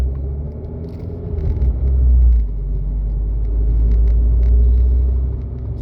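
An Abarth 595C Turismo drives along with a steady low engine rumble and road noise from inside the cabin, swelling gently and easing off, with no talking.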